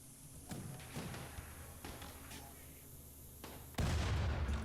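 An explosion destroying a turret in the colony game RimWorld, a sudden loud, deep blast near the end after several scattered thuds and clicks over a quiet background.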